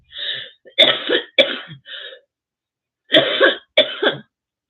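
Someone still recovering from the flu coughs in rough, hacking bursts, a cluster of several harsh coughs, a pause, then two more, loud and close.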